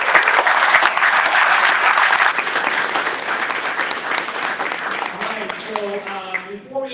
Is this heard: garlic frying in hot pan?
no